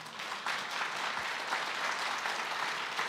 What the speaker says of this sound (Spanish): Alguien que le dé un aplauso al Espíritu Santo